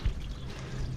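Old, long-stored water runs out of a food trailer's tank after the drain handle is pulled, a steady soft pouring and trickling rush heard up close with no talk.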